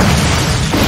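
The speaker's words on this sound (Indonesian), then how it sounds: "Mengetahui rumah yang sebentar lagi akan meledak, Alex pun segera keluar dari sana." A house blowing up in a film, heard as one loud, close, dense roar of blast noise that fills the whole short moment without any break.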